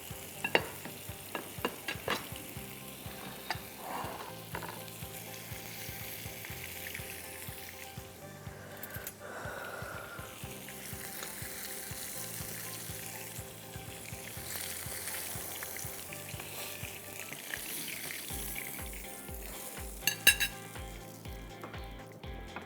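Fish frying in a pan, with a steady close sizzle running throughout and occasional clinks and taps of utensils against the pan.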